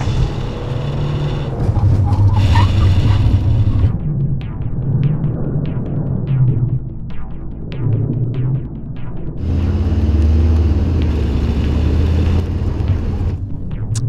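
Audi A5 fitted with Eibach lowering suspension accelerating hard: a loud, throbbing engine rumble that rises in pitch through the gears, with brief lulls during the shifts and a heavy low drone.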